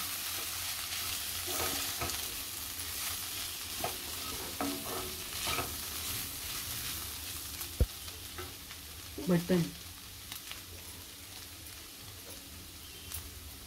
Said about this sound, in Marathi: मिक्स करून घेते चांगलं